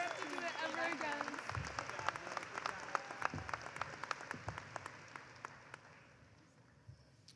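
Graduation ceremony audience at a high school commencement clapping, applause that starts full with voices over it, then gradually thins into fewer, scattered individual claps as it fades.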